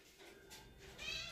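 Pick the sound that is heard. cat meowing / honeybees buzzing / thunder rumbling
cat meowing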